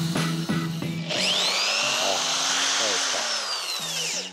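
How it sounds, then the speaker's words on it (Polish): A corded power drill polishing a glass windshield whirs steadily at high speed for several seconds, its pitch sliding slightly, after a few brief clicks and a short burst of voice at the start. "Lepiej użyć wiertarki przewodowej"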